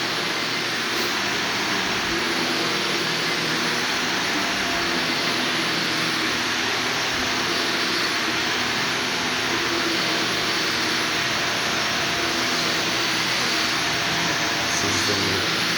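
A vacuum cleaner drones loudly and continuously while a room and hallway are being vacuumed, a steady broadband roar with no breaks.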